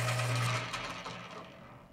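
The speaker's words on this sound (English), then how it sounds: "I'm gonna sharpen a pencil." A pencil sharpened in a sharpener gives a short mechanical whir, steady at first and then fading over about two seconds, fairly faint.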